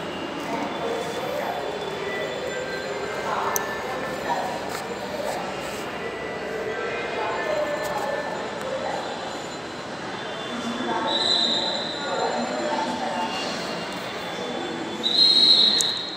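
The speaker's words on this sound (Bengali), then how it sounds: "আমরা ট্রেনের জন্য ওয়েট করতেছি।" A Dhaka metro rail train at a station platform, its rumble and squealing wheels rising near the end with sharp high screeches, while people talk nearby over steady platform noise.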